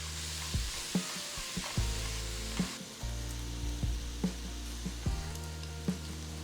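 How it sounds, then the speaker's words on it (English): Grated beetroot stirred into a hot tempering in a kadai sizzles steadily up close, punctuated by regular clinks and scrapes of a spoon against the metal pan roughly every half second, with no voices. "Add the grated beetroot directly into the kadai and mix it well with the tempering."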